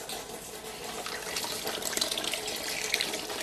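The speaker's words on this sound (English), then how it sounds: "We're catching the odd flake of grain, but for the most part we're just getting nice clear water there. I'll show you a bit of this Vorloff running here." Wort runs clear from a mash during the vorlauf for a black IPA home brew, making a steady splashing trickle like a running tap, close and continuous, with no talk.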